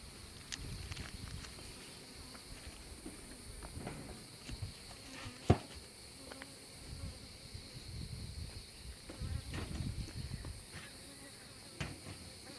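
Honey bees buzzing around beehives at an apiary, a faint continuous insect drone with scattered footsteps and small knocks nearby, no speech.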